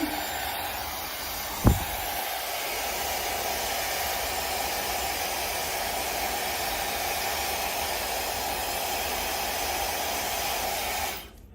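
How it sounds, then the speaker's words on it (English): A hair dryer blows with a steady, even whoosh and hum for about ten seconds on curled hair, briefly preceded by a sharp click, then switches off. "I'll take my blow dryer"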